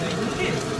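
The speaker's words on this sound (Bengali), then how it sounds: "তোমাদের কিন্তু পেঁয়াজ ভাজা চলছে" Onions frying in a pan on a stove: a steady, close sizzle with light stirring, all within a brief moment.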